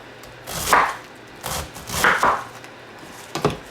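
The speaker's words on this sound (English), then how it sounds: "now, we're going to cut this into ribbons, just like this" A knife slices food into ribbons on a cutting board in a few separate bursts of crisp cutting strokes, close and fairly loud, with short pauses between them.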